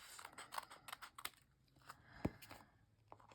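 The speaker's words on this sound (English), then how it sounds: "we are going to just trim this excess here that will be on the other end" Scissors trim excess paper from a handmade Christmas book treat box, a few quiet crisp snips and clicks spaced irregularly, followed by one sharper thud.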